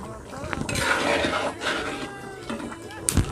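A metal pot lid clatters and clinks over a pot of boiling fish and potatoes, with a sharp clink near the end, as a person talks through it.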